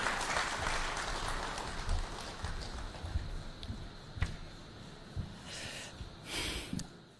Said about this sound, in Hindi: आइए अखिलेश जी, तालियों से स्वागत करें अखिलेश यादव जी का